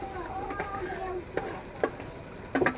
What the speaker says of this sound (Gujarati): હવે જે શેકેલા ભરતા રીંગણા છે એ બધા નાખી દેવાના છે